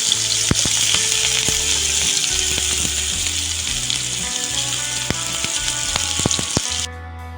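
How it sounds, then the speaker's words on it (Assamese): Chopped onion frying in hot oil with five-spice seeds in a pan, a steady loud sizzle broken by scattered sharp ticks and clinks of stirring, before the frying abruptly quiets near the end. "পিঁয়াজখিনি দি লৈছোঁ ইয়াতে এইখিনি অকণমান দেৰি ভাজি ল'ম"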